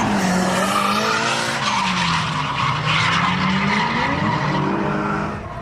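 Drift cars slide around Nikko Circuit, a Japanese drift track, with loud continuous tire squeal and screaming engines whose pitch rises and falls as the cars swing through a long slide.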